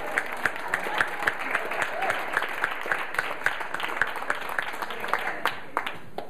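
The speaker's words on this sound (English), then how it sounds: "Give him a second round of applause." An audience gives a second round of applause for a speaker, with full crowd clapping punctuated by sharp, regular nearby claps that fall in a steady rhythm throughout, holding at an even, fairly loud level.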